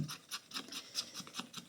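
A scratch card being scraped with rapid, rhythmic rasping strokes, about eight short bursts close up, with no talking.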